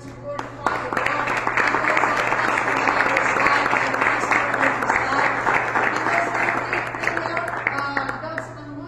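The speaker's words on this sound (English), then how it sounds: "let's clap our hands to the Lord to glorify the Lord" Church congregation claps in a steady, rhythmic burst of many hands, loud and continuous for several seconds, with a voice speaking underneath.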